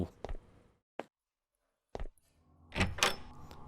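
A door opening in the horror game ARAYA, a few sharp separate knocks and clicks followed by a longer creaking, scraping swing, close and fairly quiet with no talking.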